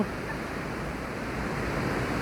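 Sea waves wash continuously onto Hua Hin beach in Thailand, a dense, steady roar of surf with some wind and no voices.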